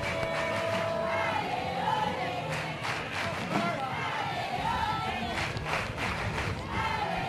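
Spectators at a mixed ultimate frisbee world championship final cheer and shout excitedly, a broad steady crowd roar with scattered yells, heard from a distance under a commentator's voice talking throughout.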